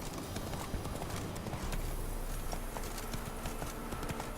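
Horse hooves clip-clop steadily in The Witcher 3 video game, a continuous trotting rhythm heard up close over a soft ambient bed.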